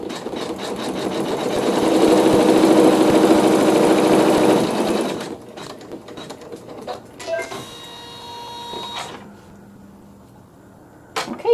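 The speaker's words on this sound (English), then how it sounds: "Okay, I have it placed and I'm stitching the seam." Embroidery machine stitching a seam on a quilt block, a loud rapid whirring buzz for about five seconds that then stops, followed by clicks, mechanical clatter and brief motor movements.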